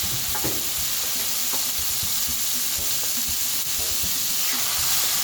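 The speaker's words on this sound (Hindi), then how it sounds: "ये तेल गरम हो गया। अब इसके अंदर ये इसके पीस डालते हैं जो मैरिनेट किए हुए थे।" Marinated beef strips frying in hot oil give a steady, close sizzle and crackle with light stirring clicks, holding loud and even throughout with no talking.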